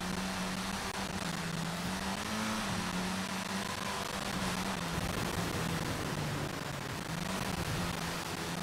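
Buggy engine in the racing game Forza Horizon 5, a steady droning hum with a wavering low pitch that rises and dips, held continuously under broad hissy road and wind noise, no voices.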